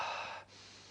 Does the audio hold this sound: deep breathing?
yes